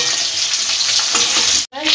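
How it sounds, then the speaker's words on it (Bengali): Prawns fry in hot oil over medium heat, a loud, dense, continuous sizzle up close that drops out abruptly near the end before resuming. "এগুলো ভেজে নিতে হবে।"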